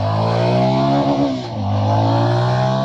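A 2026 Yezdi Scrambler motorcycle engine revs hard and climbs in pitch, dips briefly at a gear change around the middle, then pulls up again, loud and close.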